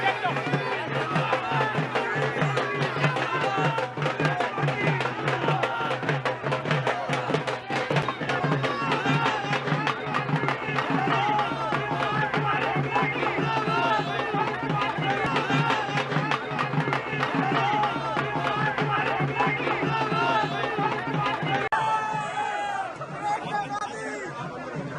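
A dense crowd at Priyanka Gandhi's Congress road show in Uttar Pradesh, loud continuous chatter and shouting from many voices close by, steady throughout with a brief shift near the end.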